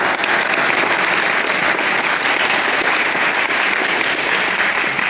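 A city council meeting audience gives a loud, dense round of applause that carries on steadily and evenly throughout, with no one speaking over it.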